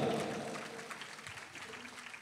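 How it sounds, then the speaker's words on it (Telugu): Audience clapping at a church festival mass in Mutluru, Guntur, a fairly faint, distant wash of applause that starts strongest and slowly fades over a couple of seconds. "గట్టిగా చప్పట్లు కొడదాం"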